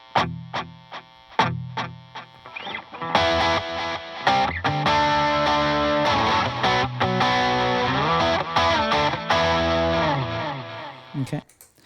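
A Stratocaster electric guitar played through a delay pedal, with a few plucked notes followed by a dense, sustained passage of ringing notes and echoing repeats. It is loud and upfront, with no talking.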